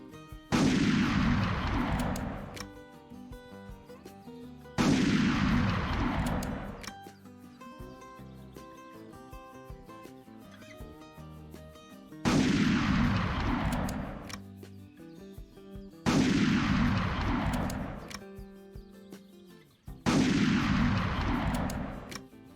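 Five loud, booming long-range shots from a .338 hunting rifle in the Hunting Unlimited 2009 game, evenly spaced about every five seconds, each with a long rolling echo decaying into quiet game ambience.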